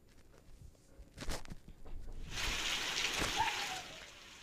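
Heavy cyclone rain pours over a Singareni open-cast coal mine in Adilabad, a steady broadband hiss swelling in after a few soft thuds and holding loud to the end.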